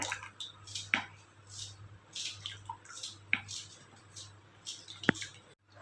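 Water trickles and drips into thick strained sambar for farali dosa in a kitchen, coming as a faint run of separate wet plops and squishy splashes with quiet pauses between them.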